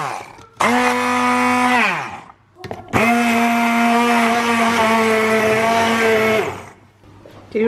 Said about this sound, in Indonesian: Dan sekarang kita haluskan si cabe.